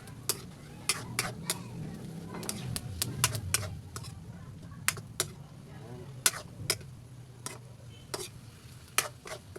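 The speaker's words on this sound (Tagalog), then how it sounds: "Haluin natin mga bari." A utensil stirs frying food in a pan for a dish with liver and chayote, making a steady run of sharp clicks and scrapes over a soft background sizzle.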